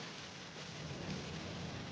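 Heavy rain pours down steadily while a low rumble of thunder rolls underneath, loud and continuous throughout the short stretch, with no voices.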